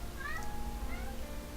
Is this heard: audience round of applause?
no